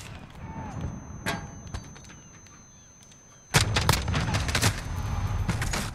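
FAMAS Valorisé burst fire in Call of Duty Modern Warfare, a few scattered quick shots at first, then a loud cluster of rapid bursts packed together in the second half, close up.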